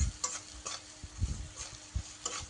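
Mixed vegetables with salt and turmeric stirred in a pan, repeated scraping strokes of the spoon over a low frying sizzle, close and quiet, with no voices.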